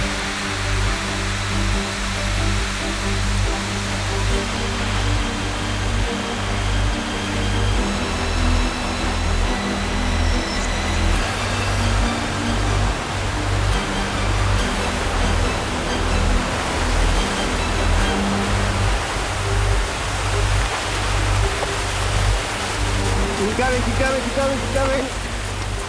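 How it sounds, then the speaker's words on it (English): Water rushing out of a hydroelectric dam makes a loud, steady, broadband roar that holds without a break for the whole stretch. "The water escapes with the same ferocity that it spins the turbines, an awesome force with which to make clean electricity."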